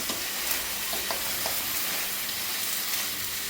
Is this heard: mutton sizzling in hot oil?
yes